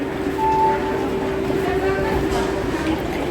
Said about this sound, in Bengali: আর আমাদের 2 নম্বরের ট্রেন আসছে।